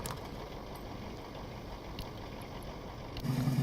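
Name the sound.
truck engine idling in the video game Mudrunner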